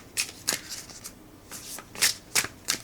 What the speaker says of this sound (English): overhand shuffling works well.